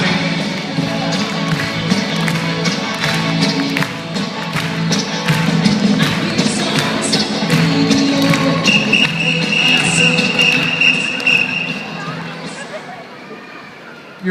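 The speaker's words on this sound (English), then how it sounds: "All right, I want to hear some clapping." An audience at a dog dance game event claps along in a steady rhythm over music, the claps crisp and evenly spaced with a voice talking throughout.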